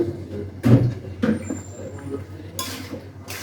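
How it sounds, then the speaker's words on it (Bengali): Boiled pasta tipped into a pan of cooked spice mix, giving a few soft clattering thuds and scraping touches up close, with quiet gaps between. "এখন আমি পাস্তাগুলো দিয়ে দেবো"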